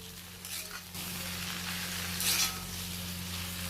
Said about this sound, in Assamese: ধুনীয়াকৈ মাংসখিনি লৰাইছোঁ